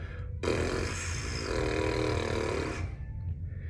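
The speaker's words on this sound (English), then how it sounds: "You have to move your lips. You're almost like you're buzzing." A buzzing, raspy lip vibration for trombone playing, with air blown through, lasting a couple of seconds, close and fairly loud with low rumble underneath.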